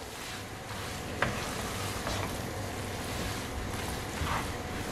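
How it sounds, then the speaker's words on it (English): Egg chow mein noodles with red chilli sauce being stir-fried over high flame, a steady sizzling hiss running throughout with a few soft clinks of the utensil against the pan. "I am going to mix it well for about 30 seconds more"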